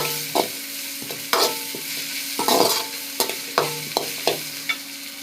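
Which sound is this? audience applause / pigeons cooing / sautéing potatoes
sautéing potatoes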